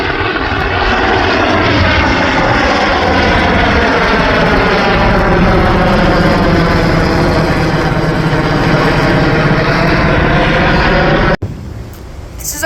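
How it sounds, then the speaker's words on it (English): A loud helicopter drones overhead near the ocean for a long stretch, its pitch sweeping gradually as it passes, then cuts off abruptly. "someone is literally flying a helicopter."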